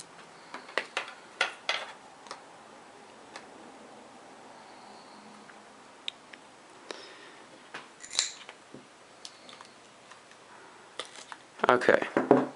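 Scissors snip off the ends of paracord on a cobra-weave bracelet: a series of sharp, close clicks and snips scattered irregularly over quiet background, with a busier cluster of handling clatter at the end.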